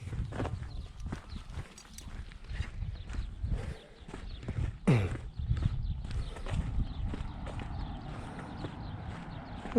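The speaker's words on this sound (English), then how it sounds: "Horses just going for a wander on their own." Horses wander on their own through Cappadocia, their hooves clip-clopping in an irregular walking rhythm on hard ground nearby, with faint outdoor ambience and no talking.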